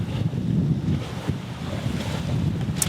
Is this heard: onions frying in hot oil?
no